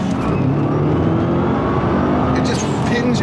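Subaru Impreza WRX engine pulling hard under acceleration, a loud continuous drone heard close from inside the car, with someone talking over it.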